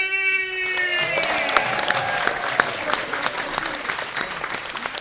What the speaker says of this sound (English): let's make a lot of noise for Mr. Mark James!